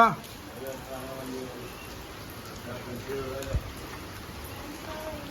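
Rain hisses steadily in the background while people talk over it, with a sharp knock partway through.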